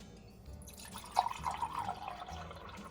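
Water being poured to fill a container for mixing henna and indigo hair dye, a soft steady trickle with gentle bubbling gurgles that rise in pitch slightly, quiet and close, with no talk.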